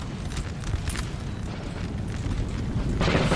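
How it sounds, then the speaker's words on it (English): Russian infantry in a Napoleonic Total War 3 battle fire musket volleys: a dense, rumbling crackle of gunfire rolls on continuously, with scattered bursts and a louder hissing swell near the end. "Russia getting the first volleys off"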